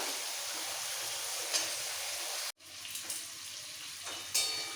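Steady sizzling of vegetables frying in a pan, with a brief break midway and occasional light clatters.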